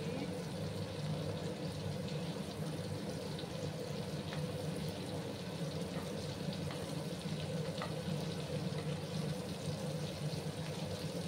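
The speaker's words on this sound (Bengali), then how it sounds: "এবার ওই অপর সাইডটাকে আমি ভালো করে ভেজে নিচ্ছি" Stuffed pointed gourd (potol) frying in hot oil in a pan, a steady, dense sizzle that holds evenly throughout with only faint small pops and no speech.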